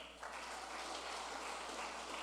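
A church congregation applauding, a faint continuous patter of clapping that swells slightly after a brief start and holds steady to the end.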